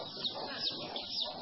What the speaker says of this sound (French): Nous sommes en train de faire l'élevage de poulets.